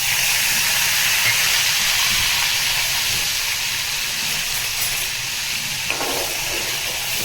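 Tomatoes hit hot oil seasoned with asafoetida, giving a loud, continuous hissing sizzle that stays steady throughout with little change in intensity.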